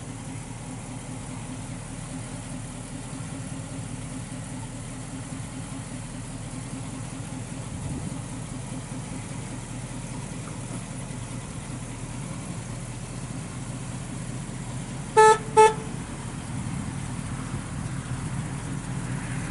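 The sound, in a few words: 1968 Pontiac Firebird engine idling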